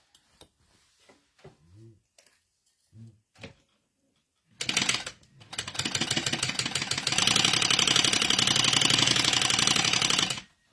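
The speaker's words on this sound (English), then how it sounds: "All right, so now we're going to sew these in place." A sewing machine stitches the seams of a crossbody bag, starting after a few quiet spoken words and running loud and steady for about six seconds with a fast, even mechanical rhythm.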